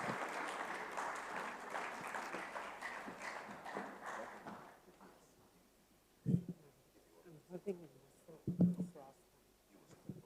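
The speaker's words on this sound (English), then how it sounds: "A round of applause, a round of applause." Applause from a conference audience at a session opening, a dense clapping wash that fades out after about five seconds, followed by someone speaking.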